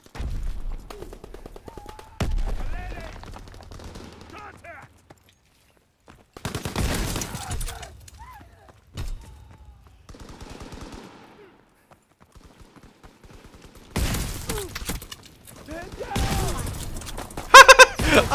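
Bursts of gunfire in the Call of Duty WW2 multiplayer beta, with shotguns in use, come in several loud volleys separated by quieter gaps, the heaviest rapid firing arriving near the end.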